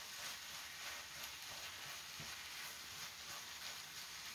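Meat fried rice with a spoonful of gochujang stir-fries in a pan, giving a steady, close crackling sizzle with soft scraping stirs throughout.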